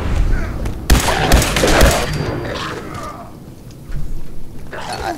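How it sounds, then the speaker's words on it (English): Gunfire in the Fallout 4 video game: loud bursts of rapid shots crowd the first two seconds, followed by quieter game noise and another burst near the end. "Shooting."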